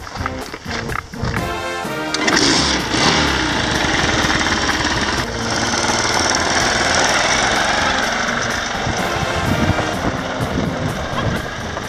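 An adventure motorcycle on the Trans America Trail cranks over and fires up, settling into a loud, steady, rough-running idle with a chattering mechanical rhythm, close by and without talk.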